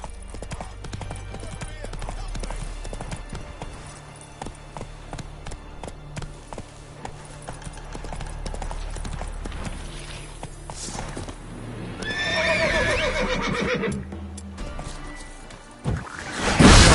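A horse gallops in The Witcher 3, hooves clip-clopping in an uneven rhythm amid game ambience, with a louder rising passage near the end where a voice is heard.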